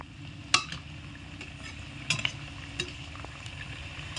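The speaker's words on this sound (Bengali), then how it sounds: "দিয়ে ভালো করে লাল টুকটুকে করে ভেজে নিতে হবে" Flour and carrot snacks deep frying in oil, a quiet continuous bubbling sizzle with a few sharp metallic clinks of a utensil, close by and without talk.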